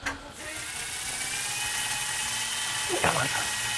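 A power drill whines continuously as it drives screws into wood without pre-drilling, close and steady with a brief strain partway through.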